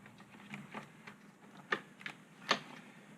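Plastic clip on the intake manifold wiring harness of a 2003-2004 Chevy SSR being pried loose, a few sharp close clicks and snaps, the loudest near the end, over a quiet workshop background.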